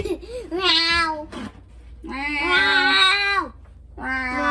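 A voice imitates a cat, drawing out several whiny, rising and falling meows in a row, loud and close.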